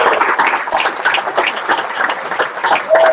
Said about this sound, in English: please give them a round of applause, because I know they're here